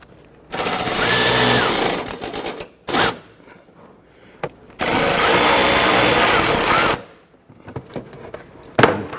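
A power tool drives the front bumper bolts on a 1992-1996 Toyota Camry in loud, close bursts: a long whir, a short one, then another long run, followed by scattered clicks and clanks.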